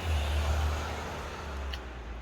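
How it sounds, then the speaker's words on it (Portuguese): A car passes nearby on a road, a low engine and tyre rumble that swells early and slowly fades, heard alone at moderate loudness. "carro passando"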